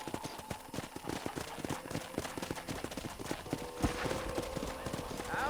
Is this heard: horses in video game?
yes